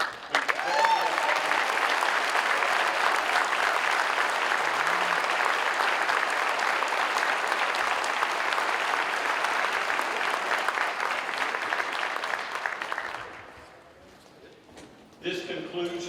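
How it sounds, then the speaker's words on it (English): An audience at a Montgomery County Sheriff's Office promotions award ceremony claps in steady, sustained applause for about thirteen seconds before it fades out, followed by a few brief sounds near the end. "One more round of applause, please, for all of our promotions."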